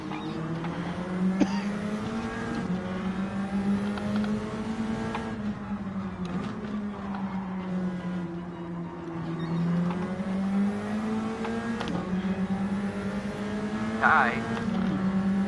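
Nissan Spec-R Aero race cars in a racing video game, steady engine drone rising and falling with gear changes as cars run close together, under a voice talking.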